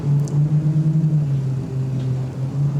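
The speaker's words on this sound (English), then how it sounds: "I love to hear the new Verado motor as well." A supercharged four-stroke Mercury Verado outboard engine at an XCAT powerboat race in Abu Dhabi hums steadily in the background, a low, even mechanical drone with faint fluttering, fairly distant and unbroken.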